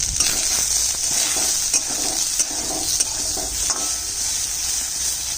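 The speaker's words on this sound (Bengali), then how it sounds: "সামান্য নুন আর হলুদ দিয়ে ভাজবো" Loud, continuous oil sizzle of soybean chunks frying with salt and turmeric in a pan, with occasional scrapes and stirs of a utensil against the metal.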